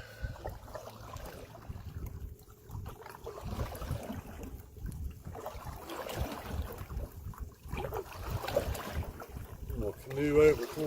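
A canoe is paddled on open water, with soft repeated paddle strokes and water splashes under wind noise while someone talks.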